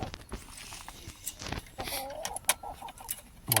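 Brahma hens clucking and calling around a backyard poultry run, short irregular bursts close by with shuffling steps and a voice talking over them.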